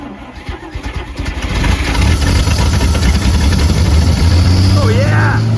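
A 1950 Chrysler Traveler cranks and fires, settling into a steady, loud idle with a low rumble; people talk over the cranking at the start.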